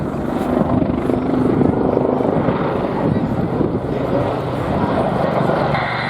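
Steady, loud rotor and engine roar of an attack helicopter flying nearby at an airshow, continuous throughout with some wind buffeting.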